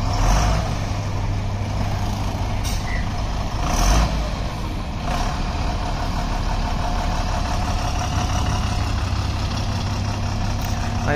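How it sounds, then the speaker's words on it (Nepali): A loaded truck at the Palpa cement plant, driven by a co-driver, gives a steady low engine drone with a constant rumble and a few faint clanks and hisses over it, all continuous and fairly close. "अहिले चाहिँ हाम्रो सहचालक मित्रले चलाइरहेका छन् गाडी"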